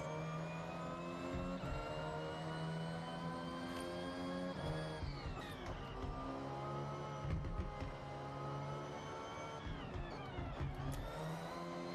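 A car driven in the Forza Horizon 6 racing game, its engine revving steadily at mid pitch and rising and falling through gear changes, loud and continuous with no talk over it.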